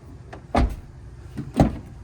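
Rear passenger door of a 2012 Toyota RAV4 opening and then shutting, two close, solid thumps about a second apart in a quiet setting.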